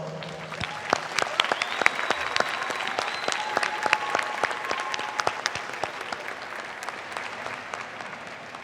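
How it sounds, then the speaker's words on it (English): An audience at a college diploma and awards ceremony claps steadily, a lively burst of applause that gradually thins and fades toward the end, with no one speaking. "Please join me in a round of applause."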